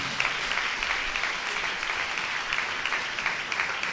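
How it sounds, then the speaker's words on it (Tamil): A church congregation claps hands steadily and fairly loudly at a Tamil Sunday service, a dense continuous patter with no speech over it. "நல்லதான் கைத்தட்டுங்கள் ஆண்டவருக்கு."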